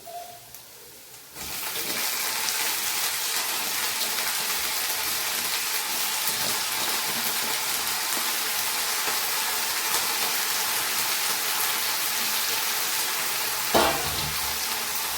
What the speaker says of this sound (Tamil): இப்போ நம்ம கழுவி வச்ச முருங்கைக்கீரை அதில் ஆட் பண்ணிக்கலாம்.